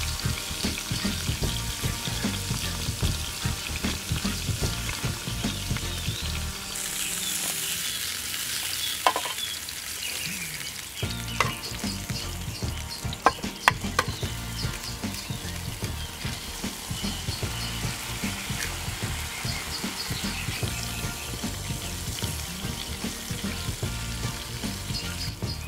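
Meat fries in rendered-down fat on a fat-fuelled camp cooker, giving a steady, loud sizzle that runs throughout, with a few sharp metallic clicks and scrapes partway through.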